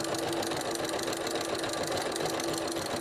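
A sewing machine fitted with a heavy jeans needle stitches decorative cord, giving a fast, steady mechanical whir and rapid needle clatter, close and continuous with no pauses.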